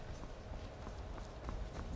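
Horse hooves clip-clopping in the video game Skyrim, a faint, irregular run of soft hoofbeats on the ground, low and muffled at a distance.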